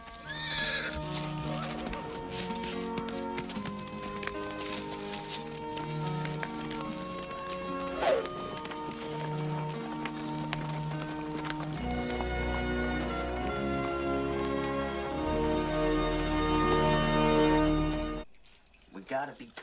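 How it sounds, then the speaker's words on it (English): Horses gallop and whinny in a tense action-film escape scene, loud hoofbeats and neighs rolling under a swelling musical score, with voices and shouts mixed in before the sound cuts off near the end. "Get on your horses. Let's ride out of here."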